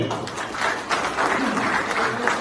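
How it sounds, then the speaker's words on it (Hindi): An audience claps for election winners at a gathering honouring candidates, a steady, moderately loud patter of many hands lasting a couple of seconds. "उनके लिए एक बार आप ताली बजा जो जीते"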